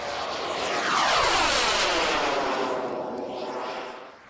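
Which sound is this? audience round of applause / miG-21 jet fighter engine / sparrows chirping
miG-21 jet fighter engine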